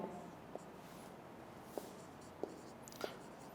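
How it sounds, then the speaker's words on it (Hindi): Marker or chalk writing on a board during a classroom lecture, a few short faint taps and strokes spaced apart over quiet room tone, with no talking. "मैं इधर नीचे लिख रहा हूं"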